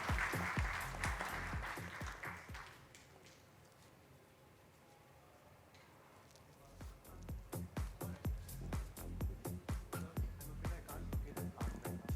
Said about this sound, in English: Let's have a huge round of applause for Varun